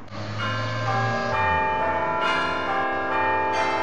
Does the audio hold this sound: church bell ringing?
yes